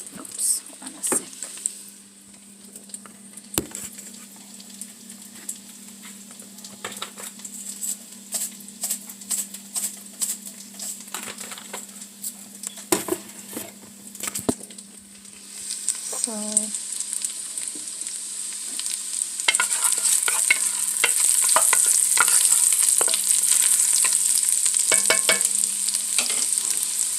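Garlic and chili flakes fry in a pan with a steady sizzle, occasional stirring clatter and brief movement noises, the frying growing louder and denser in the second half.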